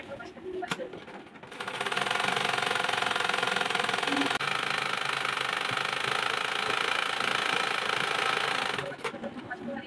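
An electric household sewing machine, its thread tension freshly adjusted, runs at a fast, steady whirring drone for about seven seconds, with a few light mechanical clicks before it starts and after it stops.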